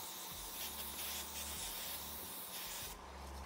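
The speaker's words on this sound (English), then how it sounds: "hairspray them, because if you don't want your ink or whatever to bleed, then you've got to put a layer of something down first" Hairspray sprayed onto a DIY date-ideas jar, a close, continuous hissing spray sustained for about three seconds before stopping abruptly, no talk.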